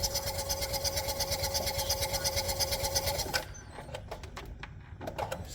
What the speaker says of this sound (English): once again, crank the engine with spark plugs out